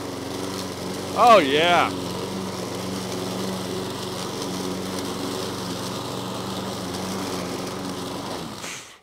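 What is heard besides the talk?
push lawn mower engine running while cutting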